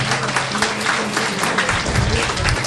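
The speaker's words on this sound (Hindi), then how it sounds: "तो इनके लिए भी एक बार जोरदार तालियां हो जाए।" Loud, enthusiastic applause from the audience at a motivational program on mind reading and memory power, a dense continuous roar of clapping with faint crowd noise mixed in.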